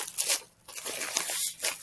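Crunchy squishy toys are squeezed and crinkle up close, giving a few rough crackling bursts with brief pauses between squeezes.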